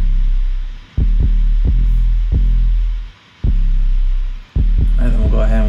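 A deep, booming sub bass throbs under a beat, with low pulsing hits repeating steadily and a constant heavy rumble beneath.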